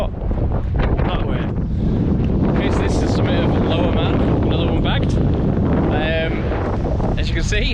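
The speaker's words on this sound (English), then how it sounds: "it is blowing a gale up here" A strong gale batters the microphone on the summit of Lower Man, a loud, continuous rumbling roar with gusting surges, while someone speaks over it at times.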